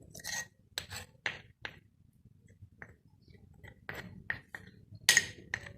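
A spoon scrapes and clinks against a bowl to gather pomegranate seed and green coriander chutney, a series of sharp, separate metallic taps and scrapes with quiet pauses between them, close and clear, with no voices.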